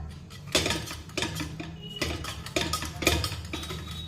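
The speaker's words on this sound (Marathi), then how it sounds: "त्यामुळे भाजी अगदी व्यवस्थित घोटून घ्यायची" Cooked spinach being mashed together with tomato and dal in a pot, heard as irregular metal-on-metal knocks and scrapes of the masher against the pot, several distinct strikes spaced unevenly, close and fairly clear.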